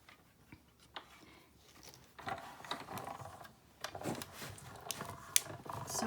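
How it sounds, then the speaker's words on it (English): A manual cut and emboss machine cranks paper through with soft, irregular mechanical ticking and clicking, faint and close, with some light table rattle. "we're going to run this through the cut and emboss machine."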